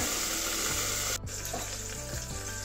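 Loud, steady sizzling of cauliflower and potato frying in a pan over medium heat, with a few soft scrapes and knocks of a utensil stirring partway through.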